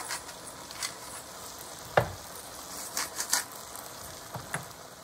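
Tomato concentrate sizzles in a pan while being stirred: a faint, steady hiss broken by scattered scrapes and clinks, with one sharp knock near the two-second mark and a few more toward the end.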